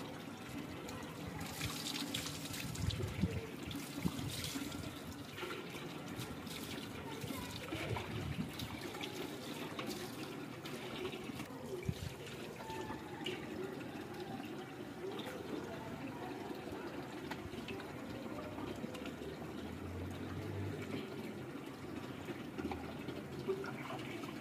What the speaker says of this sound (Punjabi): ਠੰਡਾ ਪਾਣੀ